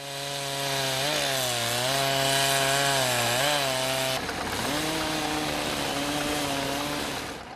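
Chainsaw cutting through a tree in a snowy Russian logging forest, a loud close revving drone that dips and rises in pitch as the blade bites, then shifts tone as the cut finishes.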